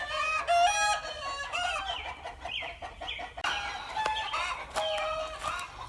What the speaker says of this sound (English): These chickens are driving me nuts.